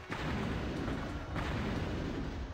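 Video game explosion from Digimon World as a crazed Ultra-Digimon attacks in a factory town: a sustained, loud rumbling blast with dense low-end roar and a few deeper thuds, filling the whole moment without speech.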